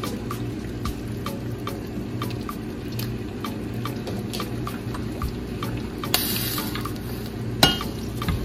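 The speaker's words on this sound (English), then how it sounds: "Now we're going to cook the salami and the luncheon," Salami and mortadella luncheon meat frying in a little butter in a skillet, giving a steady close sizzle with scattered pops and occasional stirring scrapes, no one speaking.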